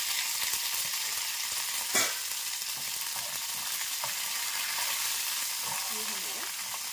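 Mustard seeds, curry leaves and red chillies crackle and sizzle in hot oil for a coconut chutney tempering, a steady bright hiss with small pops and a louder burst early on, close up.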